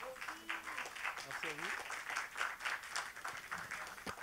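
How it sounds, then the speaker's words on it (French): Faint, sustained clapping from an evening conference audience, soft and distant, running under a nearby voice throughout. "on peut l'applaudir ce soir d'être ici"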